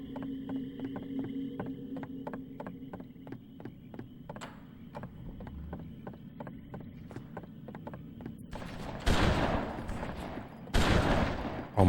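Rapid bursts of gunfire from the video game BloodRayne: sharp repeated shots in a steady, regular rhythm, swelling into two dense, louder volleys near the end.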